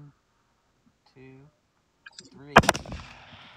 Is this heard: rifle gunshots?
yes